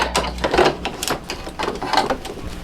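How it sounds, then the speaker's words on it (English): A single needle embroidery machine stitching a satin stitch on an in-the-hoop appliqué mug rug, giving a steady, fairly close mechanical chatter of rapid repeated needle strokes with uneven pulses, running on its own without talk. "So now I'm going to put it back on the machine and we're going to run the satin stitch"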